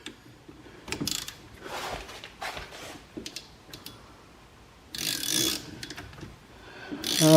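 Fourteen-millimetre bolts come off the rear wheel bearing of a 2010 Toyota Camry with bursts of close ratchet clicking and metallic clatter, separated by pauses.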